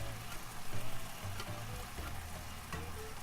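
Cajun shrimp pasta sauce sizzles and bubbles steadily in a pan, with a dense close frying hiss and occasional stirring scrapes and clinks throughout.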